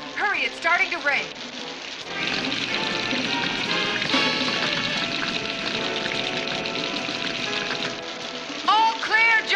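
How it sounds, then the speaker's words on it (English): A steady hiss of falling rain in the cartoon Valley of the Dinosaurs fills the middle, with people talking briefly before and after it. "it's starting to rain."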